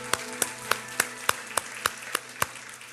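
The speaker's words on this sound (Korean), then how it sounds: "우리 하나님께 감사와 영광의 박수를 드리겠습니다." A church congregation at a Sunday worship service claps in steady unison, about nine sharp, evenly spaced claps roughly a third of a second apart, moderately loud over a faint tonal hum.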